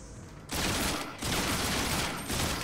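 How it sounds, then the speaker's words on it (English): Rapid shotgun blasts from the video game Dead Space 2, three loud bursts of gunfire in quick succession with brief gaps between them. "It's one of those quick shotguns."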